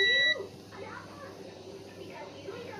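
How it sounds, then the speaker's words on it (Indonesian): A continuity tester buzzer checking a satellite receiver circuit gives one short, loud, high beep at the start, then falls silent as someone talks quietly over faint background noise. "Ini saya cek dengan buzzer."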